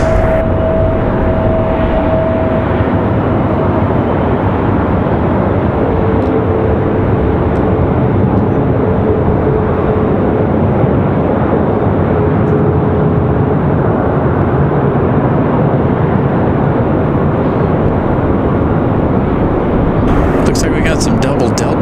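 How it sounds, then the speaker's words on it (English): Delta airliners landing on parallel runways 23 left and 23 right at Raleigh-Durham International Airport, a loud, continuous deep jet roar that fills the whole stretch with little change. "Some double Delta landings here"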